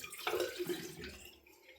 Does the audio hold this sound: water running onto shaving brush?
yes